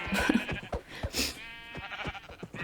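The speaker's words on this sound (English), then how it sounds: "Okay, so here's some sheep." Minecraft sheep on Xbox 360 bleat in several short, fairly close bursts over a faint game background, with no talking.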